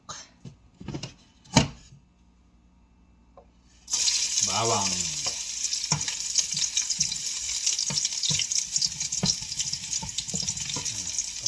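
Pan sizzling steadily as chicken sautés, after a brief quiet start, with scattered clinks and a short spoken word near the beginning.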